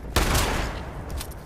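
Shotgun fire in Fallout 76 gameplay: one loud, close blast up front, with a second burst and its tail carrying on over about a second and a half.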